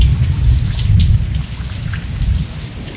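A Texas thunderstorm with heavy rain drums steadily on surfaces close by. Deep rolling thunder rumbles underneath throughout, and no voices are heard.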